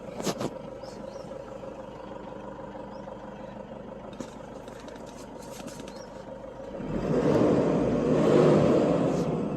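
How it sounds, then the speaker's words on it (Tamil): A Toyota Innova engine idles with a steady, low mechanical hum and light clatter, then swells louder and rougher toward the end as it revs up nearby. "அதோடய இன்ஜின் பீட் அவ்வளோ சூப்பராக இருக்குது"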